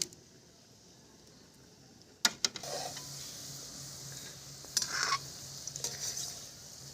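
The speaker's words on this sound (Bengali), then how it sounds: "ফিঙ্গার তো গড়িয়ে গড়িয়ে ভাজতে হবে।" Vetki fish fingers fry in oil while being rolled and turned. A quiet hiss gives way to sharp utensil clatter, then a louder sizzle with scattered clinks.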